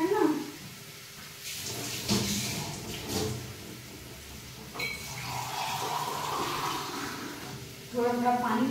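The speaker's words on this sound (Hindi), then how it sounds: "थोड़ा थोड़ा पानी डाल देंगे इसमें ताकि मसाला भूने जले नहीं।" Water is poured in small amounts into a pan of potato curry (aloo dum) frying over high heat, giving a rushing, sizzling hiss. A person talks over and around the sound.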